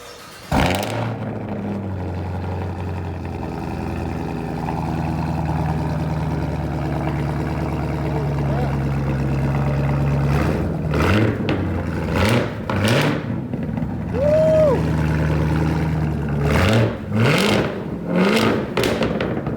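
A 2020 Chevy Camaro ZL1 with a 6.2L V8 and AWE straight-pipe dual exhaust settles into a loud, rumbling idle before a run of sharp throttle blips, with several quick roaring revs close by in the second half.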